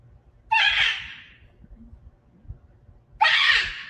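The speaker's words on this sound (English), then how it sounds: "Stop screaming in her face!" A child lets out two sharp, high screams a few seconds apart, each loud and fading quickly, in a kitchen with low background noise between.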